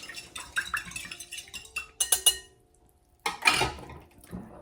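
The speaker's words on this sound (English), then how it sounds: "I think I'm going to break up this yolk and just mix everything just a little bit" Whisking egg yolk with vanilla in a bowl, heard as quick clinking utensil-on-bowl taps in short bursts with a brief pause, close and moderately quiet.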